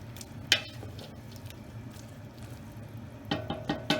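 Okra being stirred into simmering chicken gumbo in a pot: a soft wet squelch near the start, then a short run of moist, sloshing stirring strokes near the end over a low simmering hiss.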